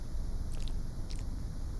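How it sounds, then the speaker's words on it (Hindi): The Granny character from the Granny horror video game chewing pan masala, two short moist chewing bursts over a steady noisy background hum, close and without talk. "पान मसाला चबाती है और है करके हंसती है।"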